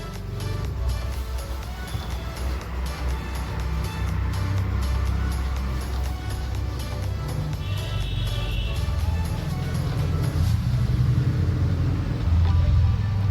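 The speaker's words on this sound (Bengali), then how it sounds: "তাই আমরা একটা এরকম ছোট্ট ভেহিকেল নিলাম" A small resort vehicle drives along an island road on a Maldives resort, its engine a steady low rumble with broadband road and wind noise throughout, fairly close and continuous.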